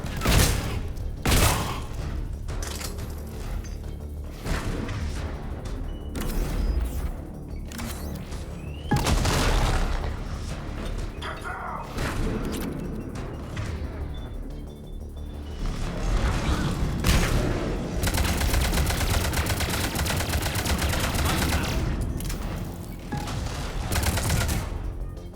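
Gunfire in Mass Effect Legendary: repeated loud weapon shots and booms over a dense, continuous combat din, with impacts and mechanical clatter throughout.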